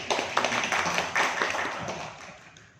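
Visitors at a village waste-management study trip in Indonesia clap briefly, a scattering of claps that swells and then fades out within a few seconds.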